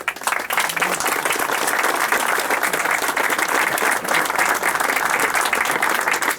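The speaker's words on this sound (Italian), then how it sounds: "Fate un bel applauso all'Elisa che vi ha seguito i lavori." An audience gives Elisa a steady round of applause, loud and even throughout, with crowd noise mixed in behind the clapping.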